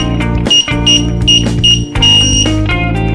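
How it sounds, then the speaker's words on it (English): A DG 185 digital keypad emits a series of sharp electronic beeps, about seven short tones in quick succession over a steady buzzing hum, close and loud. "Keypad sound 7 beeps and all user codes are deleted."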